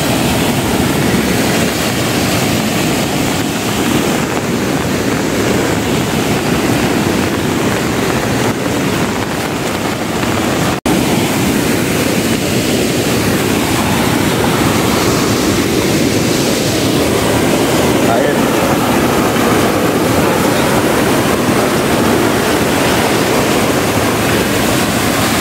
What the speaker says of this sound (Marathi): नदीला आला पूर श्रावण महिन्यात.